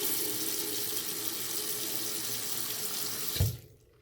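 Water from the tap runs steadily into a freshly repaired sink and down its drain, a loud, close, continuous rush. It stops abruptly near the end after a brief clunk.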